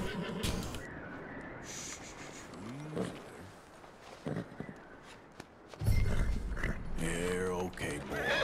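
Horse in Red Dead Redemption 2 whinnies and snorts over game ambience, with a loud neigh near the end and some clip-clop and movement sounds, fairly close.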